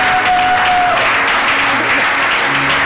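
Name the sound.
church congregation applauding the Lord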